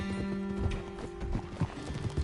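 Horse hooves clip-clop at a steady trot, with a whinny rising partway through, close and fairly loud over a busy background with faint voices.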